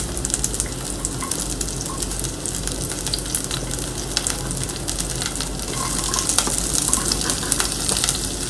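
Chopped onion fries in a pan for palak, beetroot and carrot soup, giving a steady, close, crackling sizzle with scattered pops and no talking.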